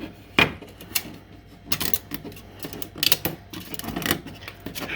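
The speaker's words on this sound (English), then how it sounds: "And take that brim off there real quick." Brim being peeled and snapped off a part printed on a Bambu Lab X1 Carbon 3D printer, a series of sharp plastic cracks and clicks at irregular intervals, close up with no talking.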